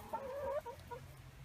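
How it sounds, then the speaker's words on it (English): A chicken on a farm near its chicken hut lets out a short, faint cluck with a rising squawk-like note, heard briefly over low background noise. "But here is their little chicken hut."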